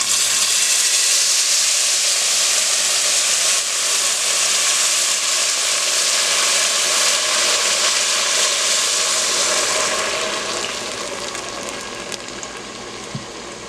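Spanish rice cooks in a single pot at a campsite, giving a loud, steady close-up hiss and sizzle that gradually softens toward the end.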